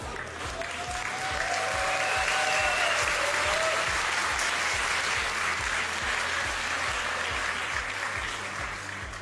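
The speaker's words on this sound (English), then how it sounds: "Can we get a round of applause from the crowd?" Crowd applause at a tournament final in Berlin, steady sustained clapping from a large audience filling the whole stretch, loud and even, with no talk on top.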